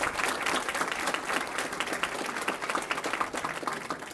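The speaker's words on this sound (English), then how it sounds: "certainly clap for them" An audience at a school board meeting claps for students' parents, a broad, even wash of many hands that carries steadily through the whole stretch at moderate volume.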